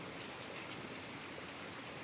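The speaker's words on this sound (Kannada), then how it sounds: "ಸಿಕ್ಕಾಪಟ್ಟೆ ಮಳೆ ಹುಯ್ತಾ ಇದೆ" Dense, steady hiss of heavy rain pouring down, a constant wash of drops with no voices.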